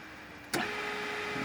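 A second Wilo pump motor starting up and running normally: a sharp click as it switches on, then a smooth, even hum at moderate level with no grinding.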